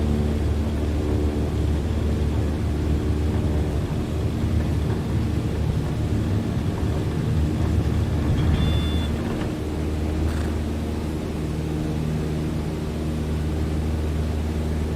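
A small training airplane engine at full throttle during takeoff fills the cabin with a steady, loud, droning roar that holds evenly throughout, with no talking.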